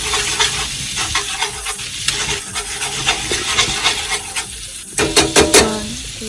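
Chili flakes sizzle in garlic butter for chili garlic butter prawns, a loud close frying crackle with rhythmic scraping and stirring strokes, and a few sharper knocks near the end.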